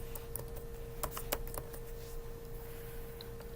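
Quick typing on a computer keyboard, a short burst of soft, close key clicks entering a search term, then the keys fall quiet under a faint steady hum.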